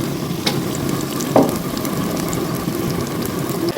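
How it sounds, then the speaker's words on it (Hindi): Medium onion frying in two spoons of oil in a frying pan, a steady close sizzle with a couple of sharp spatula knocks against the pan and faint stirring scrapes. "2 चम्मच ऑयल डालने के बाद मैं डालूंगी मीडियम साइज़ का प्याज और इसको"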